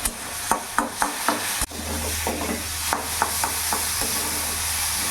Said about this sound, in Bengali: ভালো করে মিশিয়ে নেব, একটু ভাজা ভাজা করে নেব